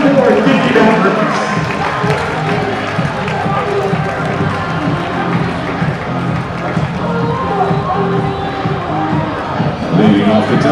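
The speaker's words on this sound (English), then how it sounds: "Give them a round of applause" A baseball stadium crowd claps and cheers steadily, in a dense, loud wash of applause with shouts, and an announcer's amplified voice speaks over it.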